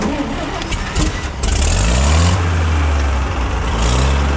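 A tractor engine cranks and fires up after running out of fuel, then settles into a loud, steady low idle with a rising rev, close to the microphone and with no talk.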